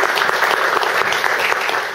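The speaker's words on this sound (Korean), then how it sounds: "다시 한번 큰 박수 부탁드립니다." Loud, dense applause from a gathered audience at a community meeting, continuous close clapping throughout the short stretch with no talk over it.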